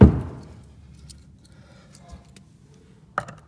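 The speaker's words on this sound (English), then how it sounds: "And then you grab one of your 8 keys" A key from a set of eight supplied with truck bed tie-down anchors for a Ford F-150 is picked up, giving a brief metallic jangle at the start, then a sharper click near the end.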